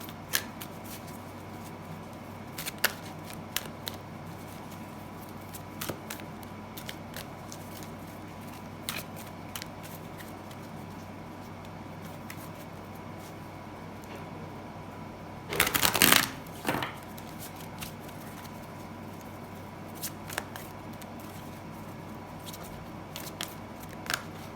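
Tarot cards being shuffled in one brief, crisp riffling burst midway through an otherwise quiet reading, with faint ticks and handling sounds around it.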